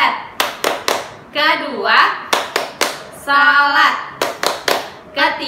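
Children clap in short bursts of rhythmic group claps between chanted words, a classroom chant about the pillars of Islam where voices recite and then hands answer in quick patterned claps.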